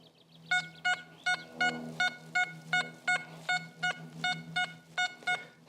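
A metal detector gives a target signal: a series of short, evenly spaced electronic beeps repeating steadily, about a dozen chirping tones over a faint background hiss.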